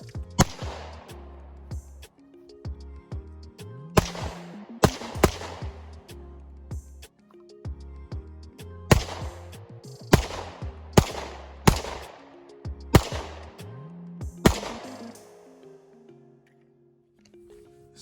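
Ruger 57 pistol fired at an outdoor gun range: a series of sharp, loud gunshots, some in quick pairs and bursts, each with a ringing echo tail, spaced irregularly with pauses between strings.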